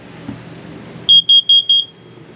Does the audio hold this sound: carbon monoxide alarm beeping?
yes